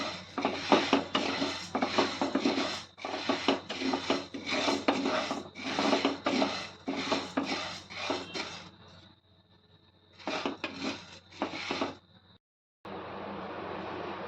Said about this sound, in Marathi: असंच आपण याला अजून 5 मिनटं ढवळून घेऊया.